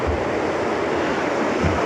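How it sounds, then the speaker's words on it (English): Sea waves washing and surging continuously, a broad steady roar of surf with some wind noise and no voices. "I hope you're enjoying the sights and sounds of the sea."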